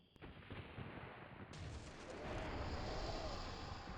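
Ship cannons boom in the Xbox pirate game Pirates: The Legend of Black Kat, muffled rumbling blasts that swell into a dense roar toward the end, faint and distant-sounding.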